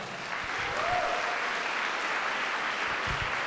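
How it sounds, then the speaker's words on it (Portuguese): A church congregation applauds at a worship service, a dense, steady wash of clapping from many people that holds evenly throughout, with a faint voice briefly rising above it early on. "Aplaude o Senhor."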